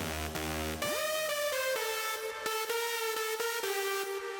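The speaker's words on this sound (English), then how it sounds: "So now the lead stack sounds like this." A dark progressive house synth lead stack plays alone, bright layered harmonic tones sliding up into a sustained line, then steady held notes broken by short rhythmic gaps, fairly loud and close.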